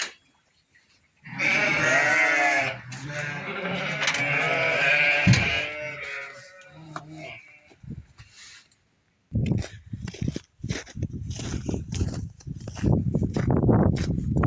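Ewes and newborn lambs bleat inside a barn, one long wavering bleat up close followed by shorter calls, then a stretch of rustling and knocking straw and wood sounds as the animals move about.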